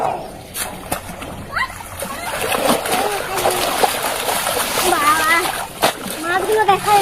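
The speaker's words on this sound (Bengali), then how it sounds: "সবাই এক এক করে দেখুন জলে নেমে পড়ছে।" People wade and splash into a village pond while fishing, with repeated close splashes and sloshing water under lively talk and children's voices.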